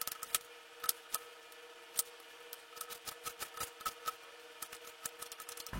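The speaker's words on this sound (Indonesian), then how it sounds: "kupas bawang putih dan bawang bombay. Iris-iris satu persatu hingga halus." Knife tapping a cutting board while finely slicing peeled garlic and onion, a quick irregular series of light crisp chops up close, with a faint steady hum beneath.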